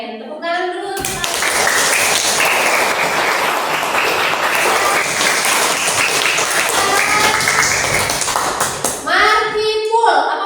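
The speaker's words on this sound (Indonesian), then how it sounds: "Tepuk tangan dulu." Classroom applause from a group of eighth-grade students, dense and loud clapping that runs steadily for about eight seconds, with children's voices briefly heard before and after it.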